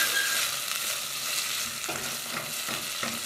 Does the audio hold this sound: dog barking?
no